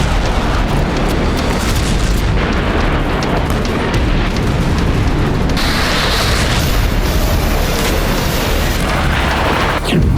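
Continuous heavy booming and rumbling from missile strikes in Kaluga, Russia, dense and loud throughout, like distant blasts rolling together with no talking.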